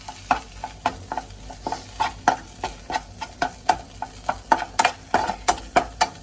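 A spoon stirs crushed cumin and pepper into a frying dish of goat blood or brain fry, making rapid rhythmic scraping strokes against the pan over a light sizzle, close and clear with no talk.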